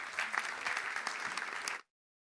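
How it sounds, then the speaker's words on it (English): An audience at an evening performance gives a round of applause for a loop-station performer, with close, distinct claps in a lively, uneven patter that stops sharply. "I ask a round of applause"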